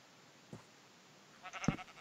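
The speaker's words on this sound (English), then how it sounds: "Why is there a sheep in here?" A Minecraft sheep bleats inside a market stall build, with two short calls, one faint and one louder near the end, over quiet background.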